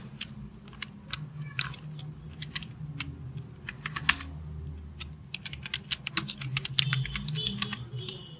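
Continuous typing on a computer keyboard while entering an address into a Microsoft Word résumé: rapid, uneven key clicks close by, with a low background hum and no speech.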